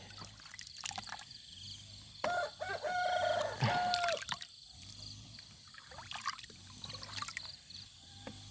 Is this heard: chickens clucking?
yes